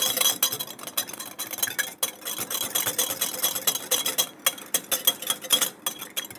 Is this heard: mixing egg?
yes